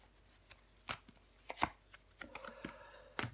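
Tarot cards are laid down on a table one over another, making a few soft, close taps and light slaps at irregular intervals with quiet gaps between them.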